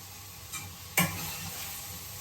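Vegetables with turmeric, chili powder, green chilies and cumin seeds sizzling in a pan, a steady frying hiss with a stirring scrape near the middle and a softer one just before, no talking.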